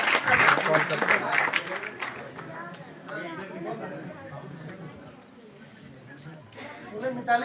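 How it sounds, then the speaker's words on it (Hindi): An audience at a school event in Lakhisarai claps for Mitali, a loud burst of applause that fades into a steady, softer patter while an announcer keeps talking over it. "मिताली के लिए जोरदार ताली"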